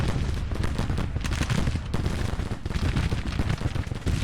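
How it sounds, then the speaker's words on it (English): Musket volleys from Civil War infantry in the Grand Tactician strategy game, a dense, continuous crackle of overlapping rifle shots and distant booms, loud and steady throughout. "20th Ohio's going to start firing now."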